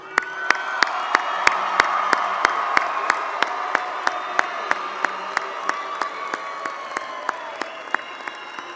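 Sustained audience applause fills a commencement ceremony hall as the crowd congratulates the graduates, with a dense wash of clapping, a few distant cheers, and one steady, crisp nearby clapper beating a regular rhythm throughout.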